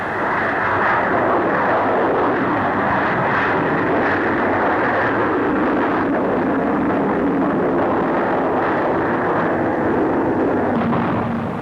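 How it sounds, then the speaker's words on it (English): A de Havilland 110 twin-engined multi-purpose fighter jet flying at a 1950 Farnborough air show, giving a loud, sustained roar of jet engines that fills the whole stretch without a break. "Here is the de Havilland 110."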